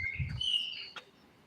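A starling sings nearby, mimicking a blackbird with clear high whistled phrases and a short chirp, moderately faint against a quiet outdoor background.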